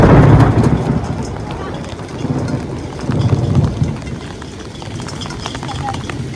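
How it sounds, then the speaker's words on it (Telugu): Heavy rain pours steadily over a hill canal while fishing goes on, with low rumbles swelling and fading like distant thunder; the wash stays dense and fairly loud throughout with no clear talk. "వర్షం అయితే మాత్రం బాగానే కురుస్తుంది"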